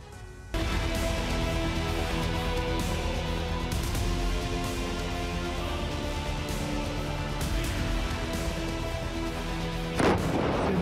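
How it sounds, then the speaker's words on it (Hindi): Explosions and heavy strikes in Rafah and Khan Younis in Gaza: a dense, continuous barrage of rumbling blasts lasting about ten seconds, ending in one sharper, louder boom near the end. "राफा से लेकर खान यूनुस तक जबरदस्त धमाके"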